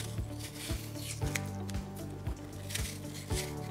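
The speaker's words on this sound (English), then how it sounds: "we're going to start our recipe by peeling and coring and slicing our apples" Apples are peeled and cored with a handheld kitchen tool, making a series of short, wet, squishy crunches at a regular pace, about eight distinct strokes, close up and quiet with no talking.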